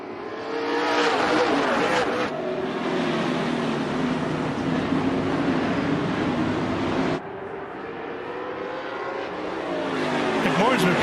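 Open-wheel modified race cars at a Klotz OWS feature race launch together on a single-file restart, a loud sustained engine roar swelling and shifting pitch as the pack accelerates, with commentators talking over it.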